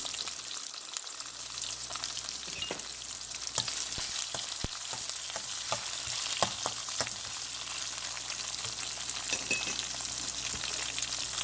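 Green chilies and curry leaves fry in hot oil, a soft continuous sizzle with scattered sharp crackles and pops, steady and fairly close, no voices.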